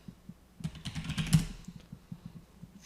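Keystrokes clatter on a computer keyboard while logging into a terminal, a close, steady run of individual taps with a brief flurry in the middle.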